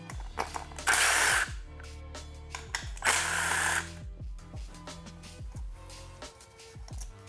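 Two sustained whirring bursts from a power driver remove bolts from a Suzuki DRZ400 stator cover, separated by sharp metallic clicks and taps of bolts and tools handled nearby, with no talking.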